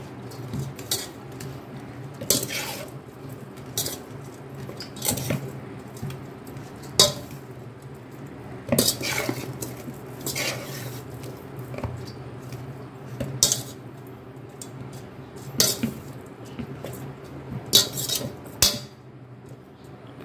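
Ragi puttu being mixed with sugar and grated coconut in a metal vessel, with repeated sharp spoon scrapes and clinks at an irregular pace over a steady low hum, close and alone with no talking.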